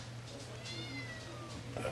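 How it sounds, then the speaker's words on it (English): Cat meowing in a drawn-out, wavering call, faint and somewhat distant indoors over a low background hum. "Oh, it's Ginger meowing"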